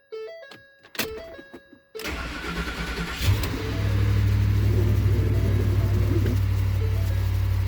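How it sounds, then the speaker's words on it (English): Ford F-150 with a 5.4 Triton 3V V8 and a replaced exhaust manifold cranks briefly after a few clicks and chimes, then catches and settles into a steady, smooth, fairly quiet idle. "We're going to start the vehicle."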